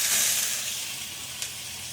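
Grated carrot dropped into hot ghee for Gujarati carrot halwa, giving a steady broad sizzling hiss that fades slightly, with one brief crackle near the end and no talk.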